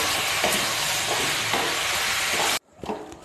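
A fish curry with cauliflower, sugar and garam masala sizzles and hisses steadily in the pan while being stirred, with soft periodic scraping strokes, before cutting off abruptly to near quiet.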